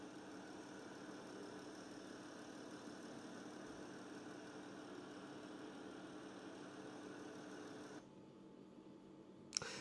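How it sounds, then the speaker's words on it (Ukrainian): A 2021 Jeep Cherokee Limited engine idles steadily with a constant mid-range hum for most of the stretch, then drops away near the end, followed by a brief click. "Можемо відкрити ще, послухати двигун."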